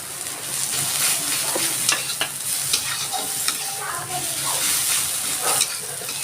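Onions with chopped green chilli and a little turmeric sizzle steadily in hot oil in a pan, a continuous loud hiss broken by occasional scrapes and clicks of a stirring spoon.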